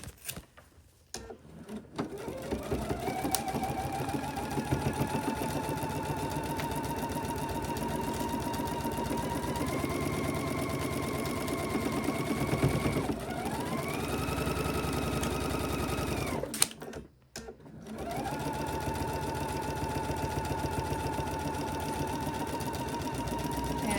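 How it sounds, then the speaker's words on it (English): A sewing machine runs a long seam at the pattern's seam allowance, with a steady mechanical whir and hum that shifts pitch, stops briefly twice and resumes, close and alone. "just sewing down at that seam allowance recommended in the pattern"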